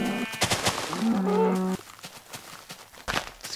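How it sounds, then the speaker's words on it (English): Bleating sheep in a survival-style video game, a couple of synthetic animal calls with a wavering tone, loud and close, followed by softer thuds and clicks from the game. "I'm gonna kill some sheep."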